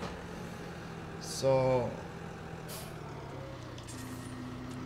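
A tractor hauling slurry in Farming Simulator 17 idles with a low, steady engine drone, broken by a short hissing burst and a few clanks, while someone speaks briefly.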